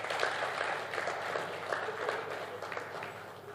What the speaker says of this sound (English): Can you please applaud yourselves?